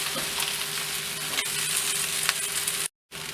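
Taro root masala with turmeric and onions is stirred in a hot pan, a close, continuous sizzle with occasional scraping clicks, broken by a short silent gap near the end.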